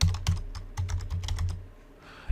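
Keys clatter on a computer keyboard in quick irregular bursts while a phrase is typed into game-engine software, close and clear with brief pauses between strokes.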